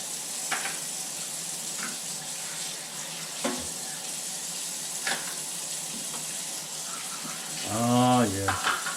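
Butter for a chocolate pudding melts in a pan with a steady soft sizzle, broken by faint clicks and pops, plus a brief clattering scrape of a spoon or pan near the end.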